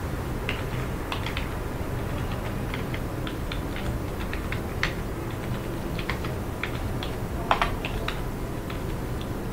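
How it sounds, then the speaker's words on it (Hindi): Typing on a computer keyboard while entering form data in MS Access, a continuous run of close, light key clicks with a few sharper taps over a low steady background hum. "फादर नेम टाइप कर दिया, आईडी कार्ड नंबर टाइप कर दिया"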